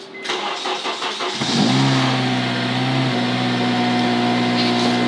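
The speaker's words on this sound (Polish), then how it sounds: "O, to będzie lepszy cold start." A car that has sat unused for about a month, fitted with an aftermarket tuned exhaust, cold-starts up close: brief cranking whirs, then the engine catches with a loud surge and settles into a steady idle.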